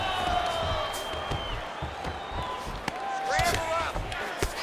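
A crowd roars and cheers steadily through a fight in the EA Sports UFC video game, with scattered sharp thumps and a voice over the crowd.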